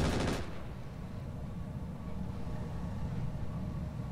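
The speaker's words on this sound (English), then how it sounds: "Firing all weapons." A mech in the Roguetech game fires all its weapons in a rapid burst of gunfire at the very start, then a low engine-like rumble carries on steadily afterward.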